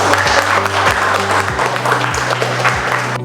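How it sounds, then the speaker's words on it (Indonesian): Schoolchildren in a classroom clap together during a lesson, a loud, close burst of applause lasting a few seconds over a low hum. "Boleh kasih tepuk tangan."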